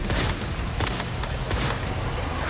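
Sniper rifle shots in the survival shooter game Once Human, several loud, close cracks standing out above a constant roar of gunfire and booms.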